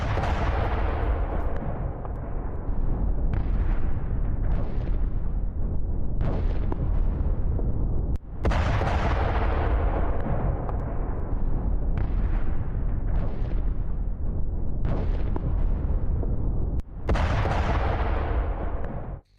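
Explosions from a Ukrainian attack on a Russian military base: a continuous barrage of heavy, rumbling blasts, with a dozen or so sharp booms rising out of a steady roar, loud and unbroken throughout.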